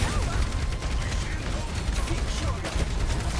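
Dense, continuous gunfire from the Overwatch 2 match, rapid overlapping shots and impacts filling the whole stretch at close range.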